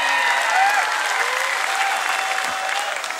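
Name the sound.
audience applause for Sachin Pujari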